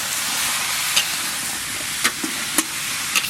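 Potatoes tipped into a hot frying pan over ginger, cumin and turmeric, sizzling steadily with a few sharp stirring clacks of a spatula against the pan.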